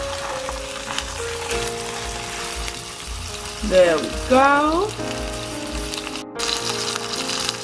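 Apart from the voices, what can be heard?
sausage frying in hot cooking oil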